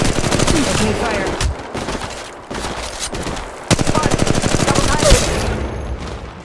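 Dense, loud bursts of automatic gunfire from the mobile battle-royale game Apex Legends Mobile, rattling almost continuously with brief gaps and a heavier volley near the end, with no voices over it.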